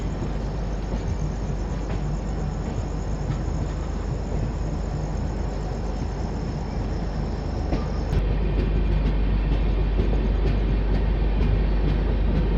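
The Garib Rath Express between Kolkata and Guwahati rolls along in a steady, loud rumble of wheels and carriage noise, heard from on board, with a shift in tone partway through.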